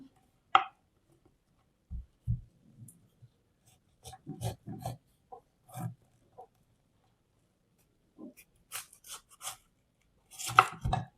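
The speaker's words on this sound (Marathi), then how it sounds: "आता हांव हेचे आणि बारीक तुकडे करून घेता" A knife chops jackfruit into small pieces on a board, scattered dull thuds in short irregular bursts separated by quiet pauses, close and fairly soft.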